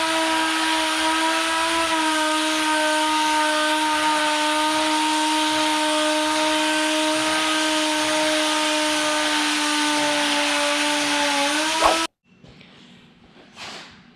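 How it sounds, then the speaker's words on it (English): A power sander works over a rusted, pitted steel GM front bumper, its motor giving a loud, steady whine for about twelve seconds before cutting off abruptly, followed by faint handling noise. "we'll get sanding and see what we have to work with"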